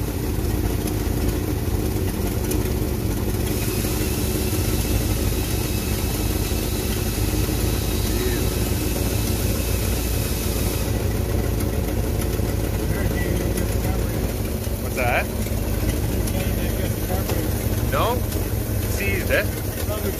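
A 1953 Cadillac Fleetwood Series 62 with a 331 cubic-inch 5.4L V8 runs at a steady idle, a continuous low rumble close by, with faint mechanical clicks and people talking over it.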